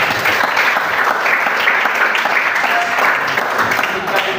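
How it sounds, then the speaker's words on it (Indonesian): A group of people claps for a team during a training session, steady dense applause filling the whole stretch with some voices mixed in. "Tepuk tangan dulu untuk kelompok 2."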